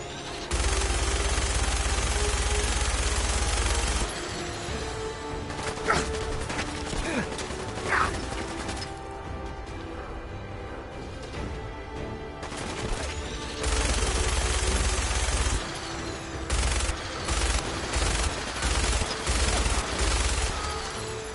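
Rapid automatic gunfire from Fallout 4's Nuka World add-on, loud dense bursts of sustained firing broken by quieter mechanical clanks and pauses, with fresh long volleys near the end.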